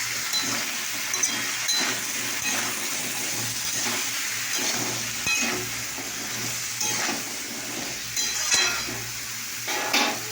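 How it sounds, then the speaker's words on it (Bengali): A continuous loud sizzle of food with tomato frying in a pan, broken by repeated scraping and clattering as a spoon stirs it. "এবার আমি নাড়াচাড়া করবো।"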